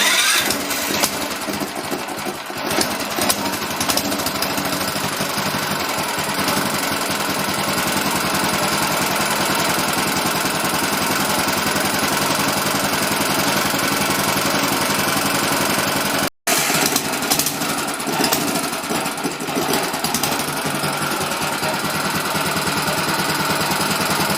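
A rough, loud car engine runs continuously, rattling and knocking unevenly, with one brief dropout midway.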